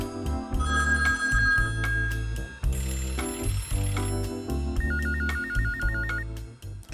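An old telephone rings with a fast, warbling trill that comes in bursts among dense, steady, music-like tones, loud and close, with no speech.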